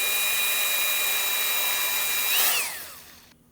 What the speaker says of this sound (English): and just drill a hole directly in the middle